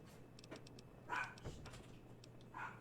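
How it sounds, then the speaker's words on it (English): A dog gives a few short, soft barks and yips with brief whimpering in between, sounding near but quiet against a low steady hum, with no one speaking. "No barking"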